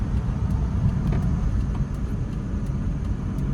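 A car engine revving up in third gear during a driving lesson in traffic, a steady low rumble holding throughout with road noise and no speech.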